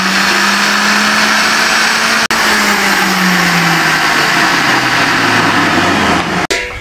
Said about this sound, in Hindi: इसको ग्राइंड करना है हल्का।